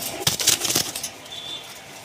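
Pigeons at a wholesale pigeon seller's burst into a short, close flurry of flapping wings, a few quick beats that fade into soft background noise.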